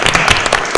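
A studio audience at a live short documentary screening claps on cue, a short burst of dense scattered applause, fairly loud and close.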